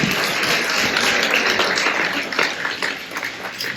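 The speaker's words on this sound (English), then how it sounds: "they deserve a round of applause for what they do" Outdoor crowd applauding at a park grand opening in La Grange, a dense wash of many hands clapping at moderate loudness, tapering slightly toward the end.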